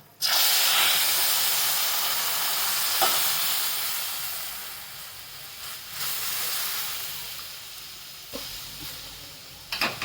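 Half a litre of milk poured onto roasted semolina in a pan for rava kheer, a loud hissing sizzle that fades slowly, with a few clinks of a utensil.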